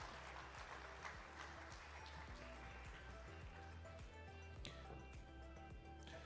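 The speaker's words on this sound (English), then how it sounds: "Give them a round of applause as they join the stage," Applause from the audience at a trade and investment forum as two bank executives join the stage, a steady, fairly quiet clatter of clapping with low rumbling room noise underneath.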